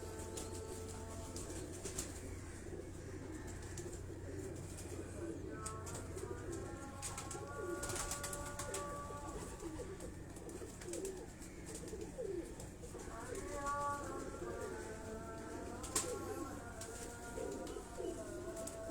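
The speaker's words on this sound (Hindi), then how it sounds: "कराची वाले जो हैं ये इन्हें काबली कबूतर कहते हैं, जिन्हें हम हाई फ्लाइंग पिजन कहते हैं।" Kabuli high-flying pigeons coo in soft, repeated rolling calls over steady background noise, with faint voices and occasional wing or bird movement nearby.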